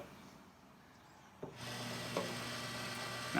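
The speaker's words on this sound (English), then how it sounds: "to try to get the auger to move the pellets into the firing pot" Auger of a Traeger Fremont pellet grill starts turning at first startup, feeding wood pellets into the fire pot with a steady low motor hum and faint rasping rattle, starting abruptly after a quiet moment and running close by.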